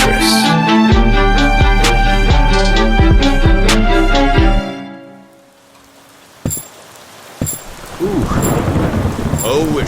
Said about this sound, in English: it sure is raining out here.